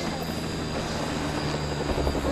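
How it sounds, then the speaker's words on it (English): A helicopter in the video game LEGO Jurassic World gives a steady, continuous rotor drone, moderately loud, with no talking over it. "there's the helicopter."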